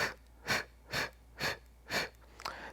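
Out-breaths through the mouth during a paced breathing exercise: five evenly spaced, breathy puffs about half a second apart, recorded close and moderately loud, with a faint trailing breath at the end and no speech.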